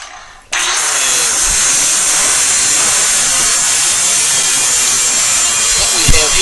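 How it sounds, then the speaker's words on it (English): Angle grinder fitted with a diamond blade cuts through a cast iron toilet flange, a steady loud whining grind starting abruptly after a brief pause and running continuously to the end. "what we have here is a side angle grinder, and we have a diamond blade on it"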